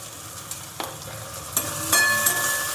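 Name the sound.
sautéing ground spices in oil for dal tadka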